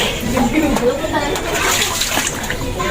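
Flood water left by a typhoon and monsoon rains sloshes and splashes steadily and close by, with voices talking over it.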